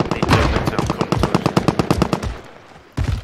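Rapid automatic gunfire in Call of Duty Warzone, a dense burst of close, loud shots for about two and a half seconds, a short pause, then another burst.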